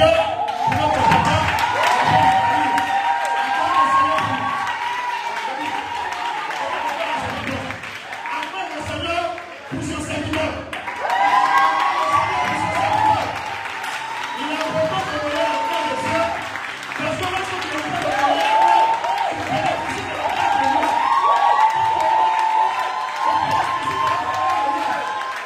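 A church congregation at a night vigil applauds and cheers for the Lord, sustained clapping and shouts from a large crowd lasting throughout, with a voice speaking over it.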